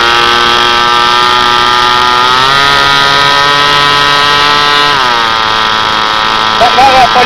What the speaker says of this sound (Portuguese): Sente o barulho do motor.